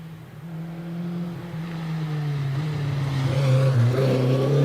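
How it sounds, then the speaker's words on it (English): An Ensign Formula 3 race car on the Prescott historic hillclimb, its engine a steady, strong drone that climbs in pitch and grows louder as the car accelerates, with no voices. "Elegant and rapid Formula 3 car"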